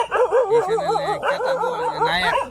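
Dogs yip and whine in high, wavering cries, a string of excited vocalizations close by, with no one talking.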